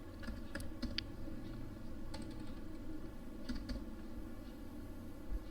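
Fingers typing Python code on a computer keyboard, sparse light key clicks in small clusters over a steady low hum, with no speech.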